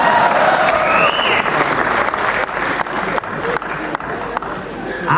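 Loud, sustained applause from a large audience at a patriotic Hindi poetry recital, dense clapping filling the whole stretch with some crowd noise mixed in.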